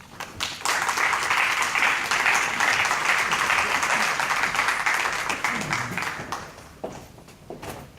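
An audience at a book fair presentation applauds the actors in a sustained burst of dense clapping that holds steady, then thins out into a few scattered, separate claps near the end.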